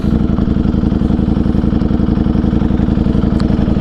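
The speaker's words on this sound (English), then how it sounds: "let's see what a 210 horsepower Ducati, sorry, 208 horsepower Ducati will do on the on-ramp here" A 208-horsepower Ducati motorcycle engine runs steadily at close range, giving a loud, even, pulsing low rumble with no talk over it.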